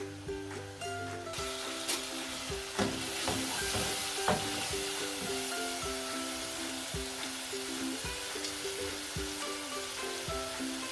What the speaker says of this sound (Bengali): মশলাটাকে আমি খুব ভালো মতো কষিয়ে নিলাম, প্রায় 6-7 মিনিট ধরে।